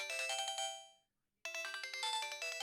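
Loud melodic ringtone from a new-model mobile phone signalling an incoming call, a bright repeating tune that plays for about a second, cuts to silence briefly, then starts again alone.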